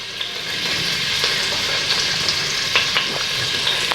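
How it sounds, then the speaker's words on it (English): Garlic cloves fry in a pan for pasta alfredo, giving off a loud, steady close-up sizzle with small pops and crackles and no talking. "the garlic cloves in and make sure it boils and fries really good."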